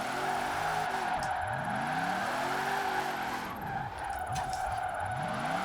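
A car drifts and skids in Forza Horizon 4, its tires squealing in long, continuous slides over a droning engine note that rises and falls.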